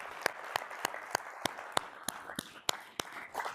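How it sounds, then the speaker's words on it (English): Sharp, separate claps ring out at a live business event at a slow, regular pace, about three a second, against a quiet room with a faint murmur behind them. "So round of applause to all of you."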